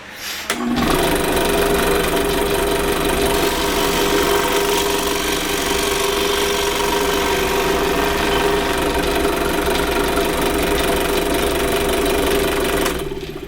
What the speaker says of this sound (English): This is a scroll saw, which you can use any type of scroll saw.